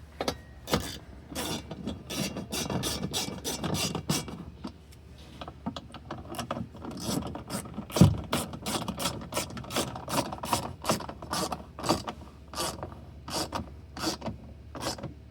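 A 5mm hand tool ratchets repeatedly while snugging bolts on an upper shelf install in a 2024 Ineos Grenadier, giving close, quiet clicking strokes in irregular bursts with brief pauses between.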